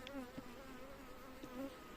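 Honey bees hum in a low, steady buzz with a few individual insects droning past, faint and continuous like activity around a hive.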